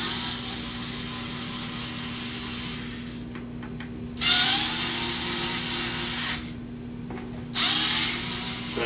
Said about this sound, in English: So what I'm going to do is start evenly unscrewing these screws